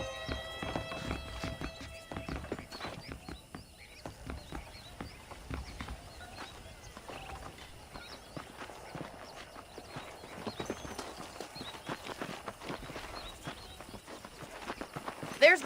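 Horse hooves clip-clopping in Red Dead Redemption, a steady walking rhythm of light close hoofbeats with an occasional whinny, running under a voice.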